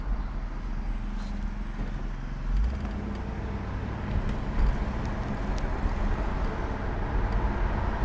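A 1985 Mercedes-Benz 500 SEC on the move, heard as a soft, steady low rumble of engine and road noise with faint wind, quiet and even, with no talking.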